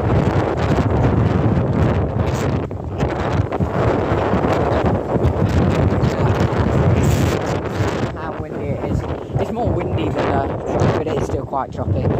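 Strong wind buffets the microphone on the open deck of a P&O ferry crossing a choppy sea between Calais and Dover, a steady roaring gust throughout with a person talking over it.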